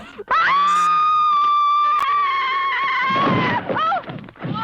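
Woman letting out a long, piercing, sustained scream in a horror movie scene. The scream is loud and close and breaks into ragged, gasping cries near the end.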